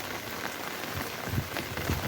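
Rain pattering steadily on an outdoor surface, close and moderately soft, with scattered individual drops landing through the steady wash.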